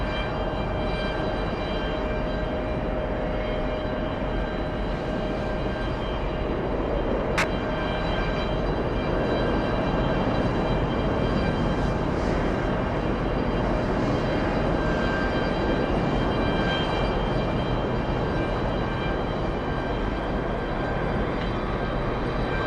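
Airliners rumble as they taxi and take off at a busy Los Angeles airport runway, a steady broad engine roar holding throughout with a faint whine overhead, continuous and moderately loud with no voices.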